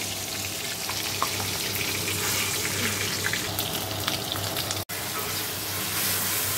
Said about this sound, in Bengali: দেখো মশলাটা কষিয়ে নিচ্ছি।